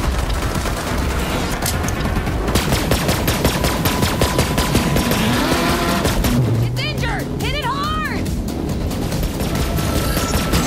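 Borderlands 3 video game gunfire aimed at a creature, a dense, loud, continuous rattle of rapid shots mixed with creature cries and other game sounds, with voices speaking over the barrage.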